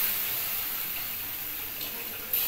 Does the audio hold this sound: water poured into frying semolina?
yes